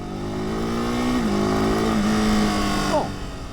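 The new twin-cylinder engine of a 2026 Ducati Monster motorcycle revs up loudly, holds, then drops off, with its pitch sliding down near the end. A faint voice may sit underneath.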